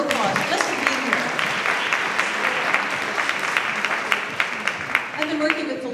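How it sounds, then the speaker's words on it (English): An event audience fills the room with steady, moderately loud applause that holds for the whole stretch, with some voices faintly mixed in beneath the clapping. "give yourselves a warm round of applause just for being here"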